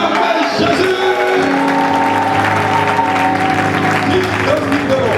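A church congregation claps and cheers for Jesus at a Montréal revival service, with steady loud applause mixed with voices and music throughout.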